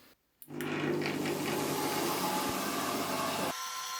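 A homemade milling machine driven by a washing machine motor with a Hall sensor starts with a brief knock, then runs as a loud, steady whirring hum with grinding texture before the tone suddenly drops near the end.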